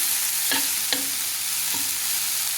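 Salted vegetable pieces, including green chilli, tomato and brinjal, are stirred in a frying pan, with a steady sizzle and three distinct scraping strokes of the spoon, no voices present.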